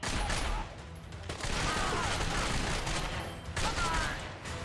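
Gunfire in The Darkness video game as the player shoots out a power box, sharp bursts of shots in two loud clusters separated by a brief lull.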